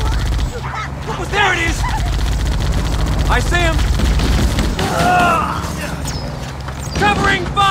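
Rapid bursts of gunfire and explosive booms from Halo: Combat Evolved run loud and nearly continuous, with people shouting over the shooting throughout.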